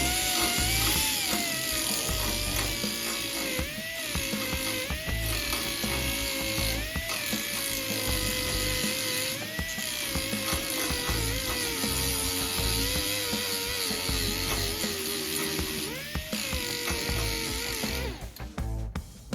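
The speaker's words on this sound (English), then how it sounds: "I can turn it and use that cutoff wheel to grind a little bit." Angle grinder with a cutoff wheel grinding rust repair on the cowl post of a 1928 Ford Model A hot rod, a loud continuous high whine with pitch wavering as pressure changes, running steadily throughout.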